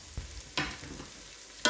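Onions sauté in a Ninja Foodi pressure cooker with a faint, soft sizzle, broken by a few brief stirring scrapes from a spoon in the pot.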